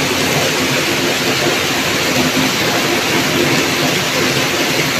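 Steady, dense rush of heavy rain, loud and continuous, with no voices over it.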